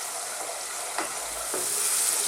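Onions, garlic and ginger sizzle steadily in hot oil over medium heat for an Indian paneer masala, with a couple of soft spoon scrapes against the pan breaking through the constant frying hiss.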